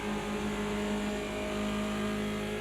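A BMW 2002 Turbo race car in Project CARS 2 at Bathurst holds a loud, steady engine whine under load, its tone staying even and close with no voices.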